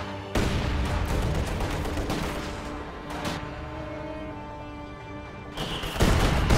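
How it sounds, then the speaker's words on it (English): Heavy mortar rounds landing on infantry in a strategy game: a dense, continuous roar of explosions and gunfire with sharp bursts near the start, middle and end, loud and without speech. "Especially with heavy mortars landing on their head."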